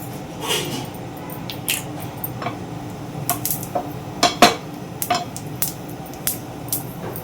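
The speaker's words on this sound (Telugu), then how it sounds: "ఆవాలు చిట్పట్లాడుతున్నాయి చూసారా." Mustard seeds spluttering in hot oil in a home kitchen while tomato rasam simmers nearby: scattered sharp pops and crackles at an uneven rhythm, with small clinks of cookware, close and fairly quiet, no talking.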